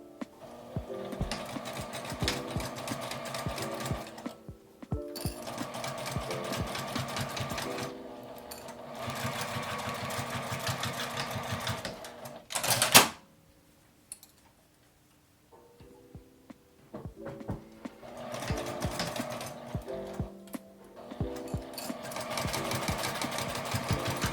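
A sewing machine stitches a 1 cm seam along both ends of fabric for a tissue case, rapid rhythmic ticking runs in several bursts with brief pauses and a sharp clatter midway, close and steady.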